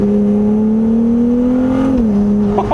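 A Ferrari V6 engine in an open-top Spider runs as a loud, steady drone, its pitch climbing slightly before dropping back near the end.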